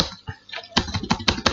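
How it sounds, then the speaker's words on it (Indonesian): Quick keystrokes on a computer keyboard, a short burst of crisp clicks close by, sparse at first then a faster run of taps. "Kemudian kalian ketik"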